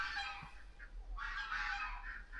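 A bantam hen at a bird park gives a few clucking, honk-like calls, fairly faint over quiet background, with no one talking.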